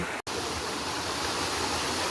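Rushing water of Bolinao Falls, a steady broadband roar filling the whole clip without pause, with no voices over it.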